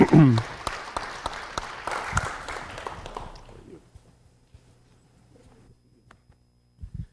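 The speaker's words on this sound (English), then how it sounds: "A little applause wouldn't hurt, and give it a little encouragement." Applause from a city council meeting audience starts loud and close, then thins into scattered claps and fades to near silence, with a few claps returning at the very end.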